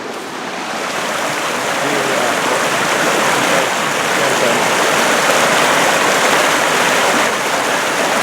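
River water rushing steadily right beside a campsite, a dense, continuous broadband wash that stays loud and close throughout with no pauses.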